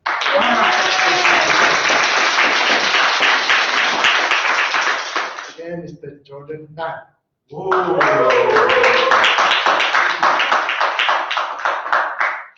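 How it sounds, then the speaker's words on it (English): Round of applause welcoming guests at a meeting, loud dense clapping from a roomful of people that breaks off while someone briefly speaks, then resumes strongly for several more seconds. "Please give a round of applause to him"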